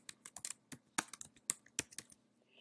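Fingers typing a title on a computer keyboard, a quick irregular run of crisp, close key clicks with brief pauses between bursts, no talking.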